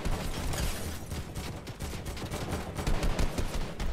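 AK rifle gunfire in Fortnite on the Nintendo Switch: dense, continuous rapid shots that keep up steadily for several seconds with a few louder bursts near the end.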